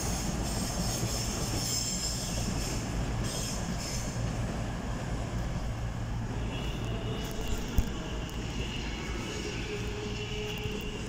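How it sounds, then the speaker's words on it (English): CrossCountry units 221141 and 220031 pull into Darlington station, a loud, steady rail rumble with wheel squeal and rolling clatter running unbroken, close to the platform. "Arriving now is the Cross Country service off for Edinburgh Waverley."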